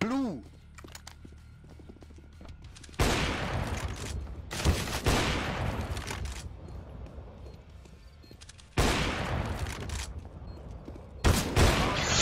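Counter-Strike Global Offensive gunfire, several loud bursts of shots in clusters separated by quieter gaps, with a player's voice talking over the action.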